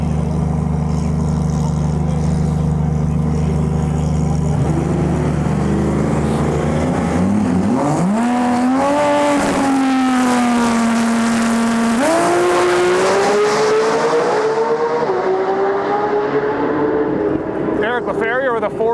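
A drag race car in the X275 class makes a qualifying pass at Lights Out 16: a loud idling engine rumble builds into a roaring launch and a rising, shifting howl that stays dominant until it fades at the end.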